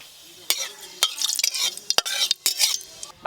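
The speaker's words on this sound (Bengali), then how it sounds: "ফোড়নে দেবো কালো জিরে" Black cumin seeds sizzle and crackle in hot mustard oil in a wok, with a spoon stirring and scraping in several short bursts, close and fairly loud.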